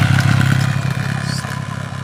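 A motorcycle on a rural road runs close by with a loud, throbbing engine and rattling clatter, the pulsing exhaust holding steady for about two seconds.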